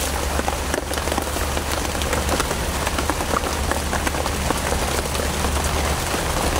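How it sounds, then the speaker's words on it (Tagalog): Heavy rain pours down steadily and loudly, a dense constant hiss of drops pattering on surfaces nearby with no break. "Malakas ng ulan, kaibigan."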